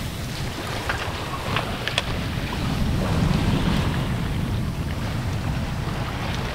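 Steady wind rushes over the microphone while waves wash against a sailing boat out at sea. The sound is loud, close and continuous, a dense roar with occasional splashes and creaks.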